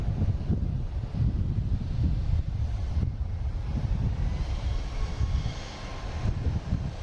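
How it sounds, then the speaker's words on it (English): United Boeing 737 MAX 9 airliner on flight 1183 to Houston, a continuous low jet engine roar heard from outside at Boston Logan, mixed with wind buffeting the microphone, steady and moderately loud. "here's United heading to Houston. (737) MAX 9, flight 1183"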